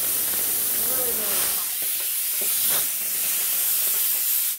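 A steam cleaner releases a steady, loud hiss of steam during bathroom and toilet sanitizing, holding continuously with faint scraping and movement underneath.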